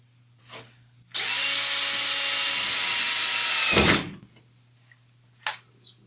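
A power drill with a 3/8 inch bit whines loudly for about three seconds as it bores through a Hobie Pro Angler kayak hull, ending with a grinding break-through, followed by a few faint clicks.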